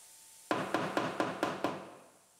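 Six sharp metallic hammer blows knocking buckles out of the damaged structure under a Lexus IS250 quarter panel in a body shop, evenly spaced and close, each ringing briefly before the next.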